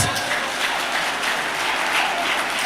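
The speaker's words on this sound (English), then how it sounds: "Can we give him another round of applause?" A conference audience gives another round of applause for a speaker, sustained, evenly dense clapping filling the room from start to finish at a steady level.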